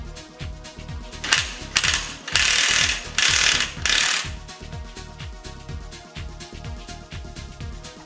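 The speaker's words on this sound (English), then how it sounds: "loosen the primary gear nut." A ratcheting special nut puller loosening the primary gear nut on a Pulsar RS200/NS200 engine, giving rapid repeated metallic ratchet clicks in bursts, close and loud, with no talking.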